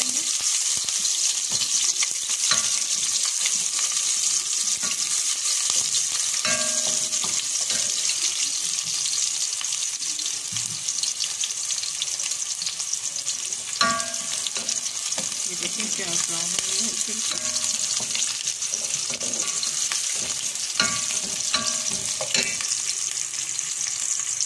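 Onions fry in hot oil with whole garam masala: cloves, black cardamom and star anise. A steady, close sizzle runs throughout, broken now and then by soft clinks and scrapes of stirring.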